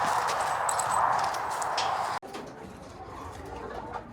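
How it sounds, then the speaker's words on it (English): Chickens roost and settle for the night inside an egg mobile, giving soft, low murmuring and shuffling with faint clucks, close by and fairly quiet, with a brief bump partway through. "These guys are all roosting, and they're just sorting themselves out."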